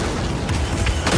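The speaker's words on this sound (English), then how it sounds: "Whoa, that's a rocket launcher." A rocket launcher blast in Star Wars Jedi Fallen Order, heard as a loud low boom over constant rumbling game noise, with a couple of sharper bursts in the last half-second.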